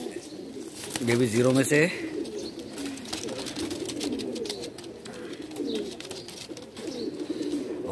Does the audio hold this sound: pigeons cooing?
yes